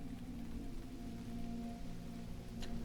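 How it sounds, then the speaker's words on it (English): Steady soft rain ambience playing as background sound for a tabletop game session, a faint continuous hiss with a low hum underneath, no voices. "Before it was just the rain."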